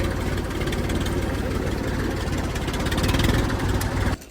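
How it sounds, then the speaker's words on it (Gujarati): A tractor engine on a farm runs at a steady, loud, throbbing idle that holds for about four seconds and then cuts off abruptly at the end. "ગેરમાં નથી પડતું ટ્રેક્ટર"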